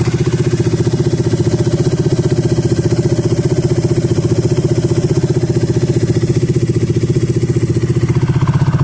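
A 2020 Yamaha Smax scooter fitted with a performance exhaust idles steadily up close, its deep, even low thrum loud and unbroken throughout with no talking.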